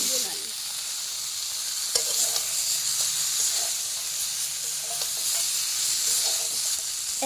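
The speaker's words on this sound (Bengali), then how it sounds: "ফুলকপি আলু কষিয়ে নেওয়া প্রায় হয়ে গেছে এখন আমি এর মধ্যে অ্যাড করছি চই ঝাল" Cauliflower and potato pieces fry in a pan with chui jhal, giving a steady, close sizzle with faint scraping and stirring clicks throughout and no talking.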